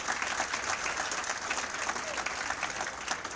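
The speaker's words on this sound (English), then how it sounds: "We should have a round of applause for all that going on in Orono" Sustained applause from an audience at the University of Maine Sports Hall of Fame ceremony, dense steady clapping filling the room with no pauses, crowd noise mixed in.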